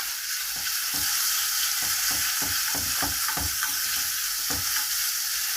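Thai red curry paste being stir-fried in a pan for a canned fish and glass noodle dish: a continuous sizzle with a rapid series of rhythmic spatula scrapes and knocks, close and fairly loud.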